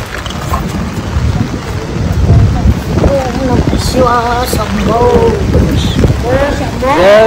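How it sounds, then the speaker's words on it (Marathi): Heavy rain pours in a loud, dense, continuous wash with wind buffeting the microphone, while voices rise over the downpour toward the end. "जाम पाऊस आलाय."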